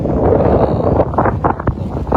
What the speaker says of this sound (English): Like these gusts do a lot of damage.